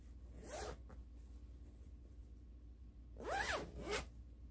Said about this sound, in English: I'm zipping it.